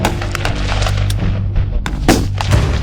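Rifle gunfire on a Marine Corps boot camp marksmanship range, several sharp reports cracking out over a steady low rumble across a few seconds, loud and fairly close.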